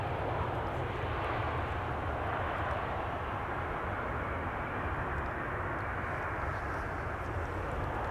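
An EasyJet airliner arriving at Amsterdam Schiphol from Naples gives a continuous loud jet roar, broad and steady throughout, with no break or fade.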